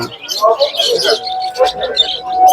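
Madras pigeons at a rural pet and animal market coo and chirp close by, mixed with other bird calls and people talking over them.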